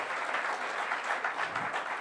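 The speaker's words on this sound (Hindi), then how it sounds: "तालियां हो जाए।" Applause from an audience at a Bilaspur political gathering, a steady wash of clapping at moderate level, fairly distant and even throughout.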